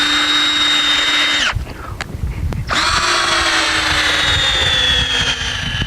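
A power drill bores into a hay bale to take a forage sample. The loud, steady motor whine stops for about a second partway through, then runs again close up.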